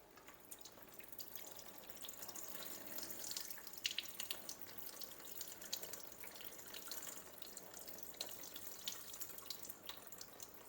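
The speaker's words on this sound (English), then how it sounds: "and rinse them with nice fresh water." Tap water runs steadily into a sink while soaked soy beans are rinsed, a soft continuous splashing with small drips and clinks, fairly quiet and close, no voices.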